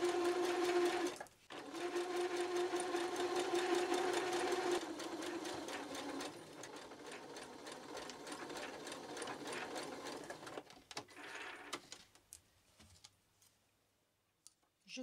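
A sewing machine stitches along a folded fabric edge for a Christmas table piece, a close steady whirring run that slows and stops near the end, with faint talk in the background.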